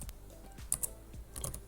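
Several keystrokes on a computer keyboard, soft irregular clicks at close range with a couple of sharper taps, heard alone at low level.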